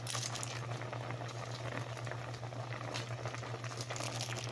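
Fish paksiw, a vinegar-stewed fish dish cooked with whole peppercorns, simmers in a pot with a steady bubbling and crackling boil throughout, joined by a constant low hum and no voices.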